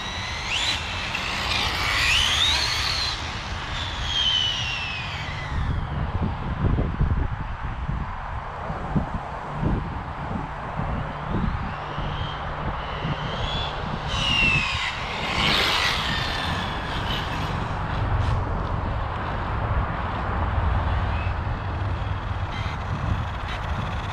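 An Arrma Limitless RC car runs at speed, its high-pitched motor whine rising and falling as it passes near and far, with tire rush and outdoor rustle between passes.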